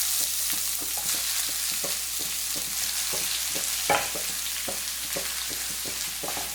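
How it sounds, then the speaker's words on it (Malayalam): A vegetable mix of cabbage and beans frying in a pan, stirred with steady rhythmic scrapes and taps over a constant sizzle, one louder knock partway through, close and clear with no talking. "ഇനി ഇത് നല്ലപോലെ ഒന്ന് ഇളക്കി കൊടുക്കാം."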